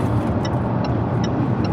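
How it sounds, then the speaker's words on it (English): Heavy road traffic with many trucks around the Birmingham junction, heard from inside a moving vehicle as a loud, constant broadband rumble, with faint regular high ticks roughly every 0.4 seconds. "how many trucks are over here in this Birmingham Junction area?"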